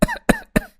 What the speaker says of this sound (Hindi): अरे मुझे तो इतनी ज्यादा खांसी हो रही है